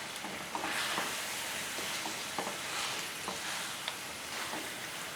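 Biryani masala being stirred in a pot after tamarind juice and dried plums (aloo bukhara) are added, giving a steady sizzling hiss with soft scraping strokes throughout.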